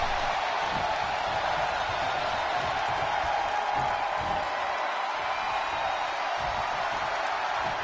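Roaring arena crowd in the wrestling game WWE 2K22, a constant wash of cheering and crowd noise that stays loud and unbroken throughout, with faint commentary-like talk underneath.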